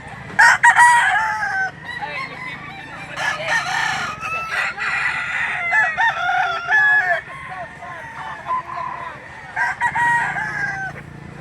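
Crowded poultry market in Lipa City, Batangas, where many roosters crow repeatedly and chickens cluck, several calls overlapping near and far with a murmur of people talking behind them.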